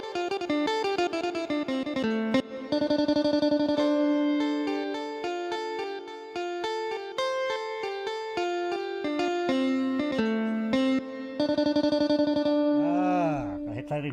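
A Fender guitar voice on a Yamaha Genos keyboard plays a continuous melodic line with effects and chorus, clear and sustained, ending in a swooping pitch-bend sweep.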